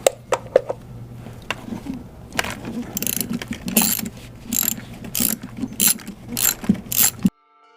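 A ratchet with a deep 10 mm socket undoes valve cover bolts on a BMW 335i N54 engine, giving quick bursts of clicking with knocks and tool clatter, close and fairly loud, before an abrupt stop.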